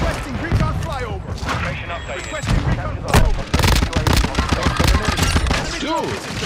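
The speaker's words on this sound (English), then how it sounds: "Dude, he's shooting him." Dense close-range gunfire and shotgun blasts in a Call of Duty match on the cramped Shipment map, loud overlapping shots with a big burst near the middle, while voices talk over the action.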